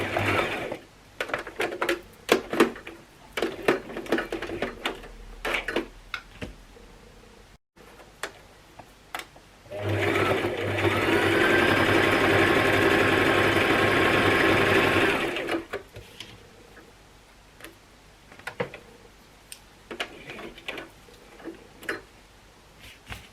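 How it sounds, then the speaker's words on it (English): Sewing machine stitches up the sides of a fabric toiletry bag in one steady, fairly loud run of about five seconds midway, with quiet handling clicks and taps before and after. "What I'm going to do next is stitch up the sides here."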